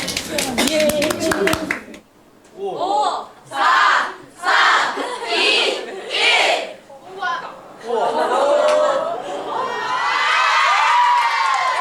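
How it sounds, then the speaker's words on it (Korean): High school girls watching a dodgeball game shout and cheer loudly in repeated surging waves, with clapping and excited chatter from the crowd. "여기저기서 터져나오는 환호성"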